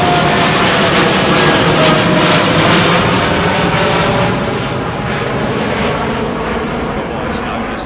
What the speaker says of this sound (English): Singapore 380 lining up for departure